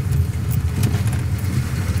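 A small car's engine runs steadily near Venice, Italy, giving a continuous low rumbling hum that holds even and fairly loud throughout, with no voices.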